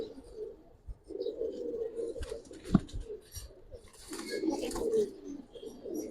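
Pigeons cooing in a loft at a pigeon dealer's, deep throaty rolling coos repeating in two long bursts, fairly close, with some rustling and a soft thump between, no talk.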